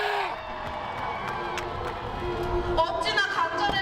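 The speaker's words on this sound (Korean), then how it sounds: "다시 한번 힘찬 상 외쳐보겠습니다. 힘찬 함성" A crowd at a street rally for impeachment in Daegu cheers, whoops and shouts together, a loud massed roar with some voices and whistles rising above it near the end.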